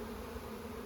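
Honey bees buzzing in a dense, steady drone as a frame of bees is shaken into a hive during a colony split, close and continuous with no talk.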